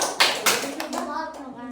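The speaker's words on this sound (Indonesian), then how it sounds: "Kasih tepuk jempol." A primary-school class claps in a short classroom routine, a few sharp claps ringing out close by, followed by children's voices.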